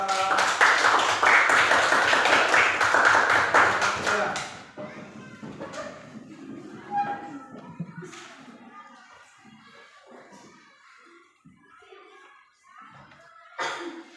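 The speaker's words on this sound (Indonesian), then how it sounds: "tepuk tangan untuk kedua" Classroom applause for two student presenters after a lesson presentation, a dense burst of clapping for about four seconds, then it stops and children's voices and scattered classroom noises follow.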